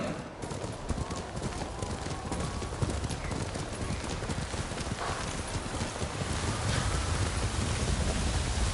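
Horse hooves in the video game Ghost of Tsushima clip-clop steadily over a constant wash of wind or rain, with the steady stride continuing throughout.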